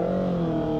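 A Honda PCX 160 scooter engine hums steadily and close by on a group ride, a short burst of sustained engine tone with a few strong, even harmonics and no talk over it.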